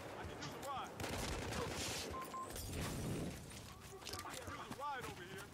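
Battlefield Hardline multiplayer gunfire rattles as a steady mix of shotgun blasts and other shots, fairly faint, with players talking over it.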